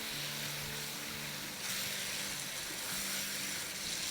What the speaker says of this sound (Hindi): और अब इसको हम भूनेंगे